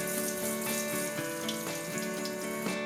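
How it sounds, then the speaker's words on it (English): Burdock root scrubbed with a brush under running tap water, a steady faint splash and hiss with soft repeated scrubbing strokes, alone without talk. "wash off the mud sufficiently with a scrubbing brush under water instead"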